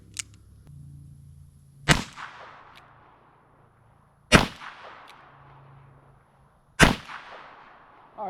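A Smith & Wesson 648-2 .22 Magnum revolver fired single action: three loud, sharp close shots about two and a half seconds apart, each ringing briefly, with another beginning at the very end.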